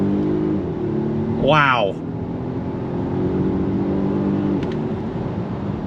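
A 2022 Volvo XC90 Recharge midsize luxury SUV pulls away hard from a dead stop. A steady, smooth drone is heard from inside the cabin, and a voice briefly exclaims early on.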